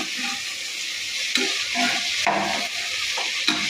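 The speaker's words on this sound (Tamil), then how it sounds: "பீன்ஸு கேரட்டு உருளைக்கிழங்கு காலிஃப்ளவர் நல்லா நம்மளுக்கு குக்கரில் ஃப்ரை ஆகி வருது" Beans, carrot, potato and cauliflower frying in coconut oil inside a pressure cooker for vegetable biryani, a steady broadband sizzle with occasional scraping stirs, close and continuous without talk.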